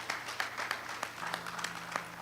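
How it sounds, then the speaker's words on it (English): A conference audience at a legal advisers' forum claps in steady broadband applause that fills the hall for a couple of seconds, with individual claps popping through the wash. "So please, let's give him a round of applause once again."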